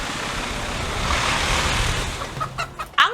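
Chickens at an egg-laying house in Tayabas cluck in a few short, close calls near the end of the clip, after a broad, steady rushing noise.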